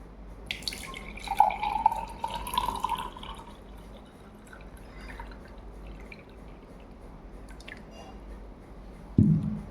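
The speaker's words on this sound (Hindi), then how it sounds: "मैंने पानी डाल दिया" Water is poured into a glass holding a pencil, giving a soft splashing trickle for a couple of seconds and then a few quiet drips in a still room.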